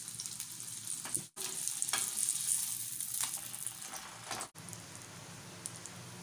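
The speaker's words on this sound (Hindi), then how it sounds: "अंडा पराठा हमारा सिक रहा है" Egg paratha frying in oil on a pan gives a steady, close sizzle with soft crackles and spatters, interrupted by two brief silent breaks.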